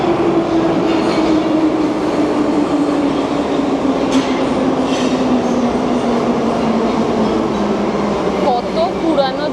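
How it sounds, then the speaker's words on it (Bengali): An old Tashkent metro train runs loudly and steadily, its continuous rumble and a droning tone filling the whole stretch, with faint squeals near the end. "কত পুরানো দিনের মেট্রো।"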